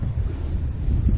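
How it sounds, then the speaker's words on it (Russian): Wind gusting across Lake Stanovoe on a May day of pike fishing with baited lines, a steady low rumble buffeting the microphone throughout, with no voices. "Вот оно сегодня ветрено, но красиво."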